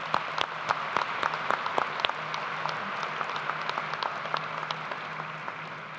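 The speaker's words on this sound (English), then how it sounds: "applause." An audience at a 2017 high school graduation ceremony applauds, a dense sustained round of clapping with a few sharper nearby claps standing out, steady and fairly loud throughout.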